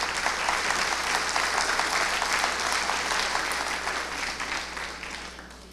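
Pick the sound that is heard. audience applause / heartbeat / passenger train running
audience applause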